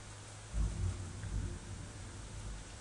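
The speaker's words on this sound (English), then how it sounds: "Thunder pours over the valley." Thunder rolls and rain pours in a Naruto fighting game, a low rumbling swell early on that eases into a steady wash of rain with no one speaking.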